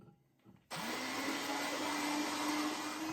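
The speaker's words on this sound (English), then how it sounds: "I take the water and the hand blender." A hand blender switches on abruptly and runs with a steady, loud, high whine while blending avocado gazpacho with water, close and continuous, after a brief quiet clatter.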